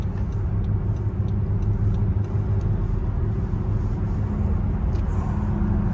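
A car gathers speed with its tyres roaring loudly, a steady, dense rumble of engine and road noise heard close from inside, with no break across the whole stretch.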